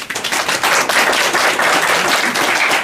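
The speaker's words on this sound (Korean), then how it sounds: "박수 한번 쳐요." A church congregation claps for second-year students standing up during a sermon, producing a dense, loud, continuous round of applause that lasts the whole few seconds.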